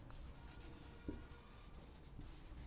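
A pen or marker scratches steadily across a writing surface as a chemical reaction equation is written out, with soft continuous strokes heard close and alone.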